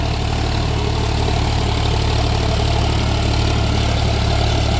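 Solis 4415 4WD 45 HP tractor engine running steadily during puddling work with a rotary tiller, a loud continuous diesel drone close by with no break or change over the few seconds.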